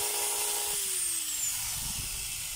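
A DeWalt DWE8100S 4-inch angle grinder runs with strong sparking at the brushes, making a loud, steady, high whine whose pitch dips partway through, close and alone.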